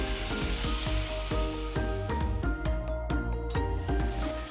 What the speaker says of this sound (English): we're gonna let it sear on each side